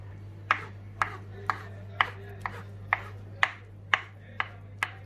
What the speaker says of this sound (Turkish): Şimdi ben patlıcanları doğrayıp içine ilave edeceğim.